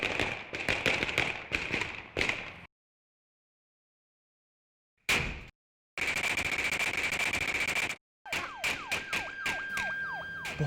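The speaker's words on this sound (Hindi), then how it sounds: "बहुत शदीद फायरिंग हो रही है।" Heavy gunfire in a movie battle scene: dense, rapid automatic bursts, loud and close, broken by a few seconds of silence and then resuming in sustained volleys with sharp ricochet-like cracks.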